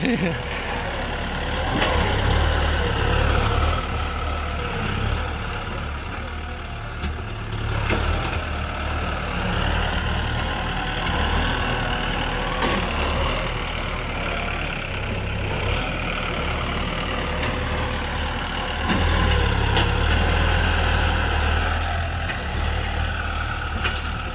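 A Kubota M6240 SUH tractor engine chugs steadily nearby, low and throbbing and slightly sluggish, with brief surges in revving; someone talks over it at times.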